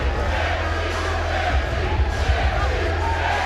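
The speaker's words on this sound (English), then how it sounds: "This crowd is on their feet. They are chanting Gaethje, Gaethje, Gaethje." An arena crowd at a Justin Gaethje versus Brian Foster fight roars steadily, with a dense wall of cheering and chanting voices that holds loud and constant throughout.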